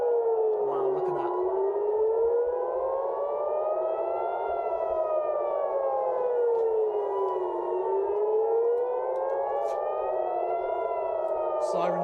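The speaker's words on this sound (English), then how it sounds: "Sirens still blasting" Civil defense air raid sirens wailing loudly and continuously, the pitch sweeping slowly up and down in long overlapping cycles.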